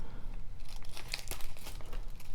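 A small bead packet holding black crimp covers is cut open. A brief, close crinkling and rustling of thin plastic runs throughout, with a few sharp snips and crackles and no talking.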